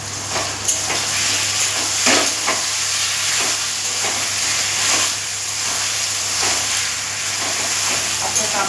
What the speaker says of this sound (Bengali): কাঁকড়াটা রান্না করছি